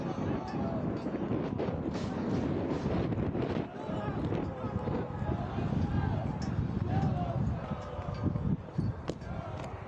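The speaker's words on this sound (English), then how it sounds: "it is a rather windy night at Finley Stadium" Wind buffets the microphone with a steady low rumble and gusty roar through a night soccer match at Finley Stadium, Chattanooga FC against Corpus Christi FC, while a commentator talks over it.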